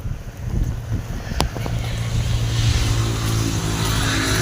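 Cool wind blowing outdoors beside farm fields of wheat, a steady broadband rush buffeting the microphone for the whole stretch, with a brief sharp knock partway through.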